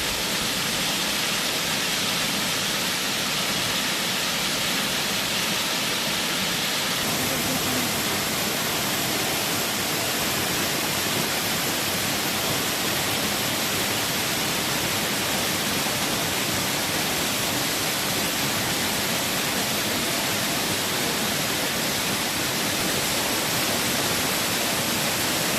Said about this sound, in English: finally made it to Ramsey Cascade